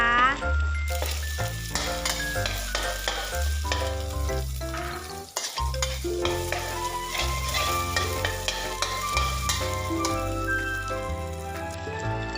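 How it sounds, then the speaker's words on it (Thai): Egg and minced pork stir-fry in a pan for Thai fried rice, giving a steady close sizzle and stirring throughout, mixed with continuous background music with a beat. "ขั้นตอนนี้เราจะมาทำการผัดไข่ใส่หมูสับกันก่อนนะคะ"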